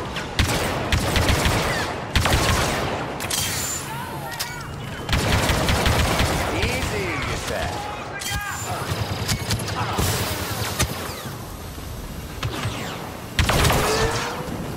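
Rapid bursts of blaster and gunfire from the Star Wars Battlefront II video game, dense volleys and fusillades that come in repeated waves throughout, close and loud, with shouted voices mixed in.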